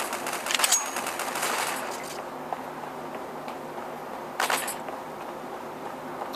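Bursts of automatic gunfire from Counter-Strike on the original Xbox, a dense volley early on, then a quieter stretch and a second short burst later, mid-distance within game ambience.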